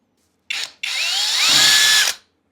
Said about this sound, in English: we're going to just go around and screw these in one at a time